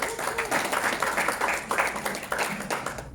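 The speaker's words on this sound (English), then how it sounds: "Can we give ourselves a round of applause?" Convention audience clapping in response to a speaker, uneven bursts of hand claps with a pulsing texture, moderately loud in a hall.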